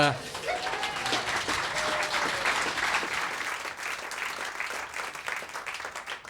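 Audience applause at a live radio studio event with a guest actor, dense clapping running throughout with faint voices and whistle-like tones early on beneath it.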